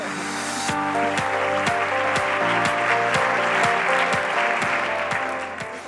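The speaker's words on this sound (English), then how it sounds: "Let's receive with an applause Emma Garbiñe Garatea, CEO of Cocoon." An audience at the Fundación MAPFRE Awards for Social Innovation ceremony applauds, a loud sustained wash of clapping with rhythmic music thumping beneath it, fading slightly at the end.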